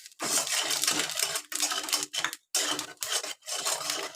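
Panch phoron spice mix hits hot oil while a rohu fish dish is being made, giving loud, crackling bursts of sputtering and popping separated by brief pauses, close up with no talk.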